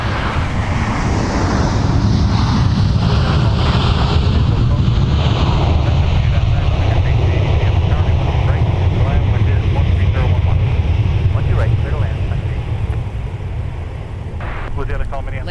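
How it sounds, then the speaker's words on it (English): An Icelandair jet departs MSP airport, giving a loud, sustained broadband roar with deep low rumble that builds and then eases off slightly toward the end, with radio chatter and voices mixed in underneath. "we're going to get Icelandair departing MSP Airport here rather shortly"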